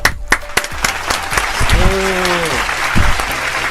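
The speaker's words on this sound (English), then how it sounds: "Can we just all give him a round of applause for being brave and saying it?" A studio audience breaks into loud, sustained applause with a few whoops, and a voice talks briefly over the clapping.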